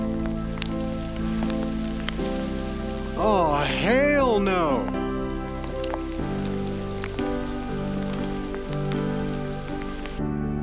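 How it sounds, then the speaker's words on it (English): Rain and hail falling on a hiker's jacket on a mountain trail in Rocky Mountain National Park, a steady close patter and rattle of drops with a voice exclaiming over it partway through. "Not only is it raining, it's hailing."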